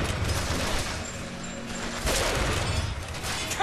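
Gunfire in the video game Bioshock Infinite, a dense continuous fusillade of rapid shots with crashing debris, loud and steady throughout without speech.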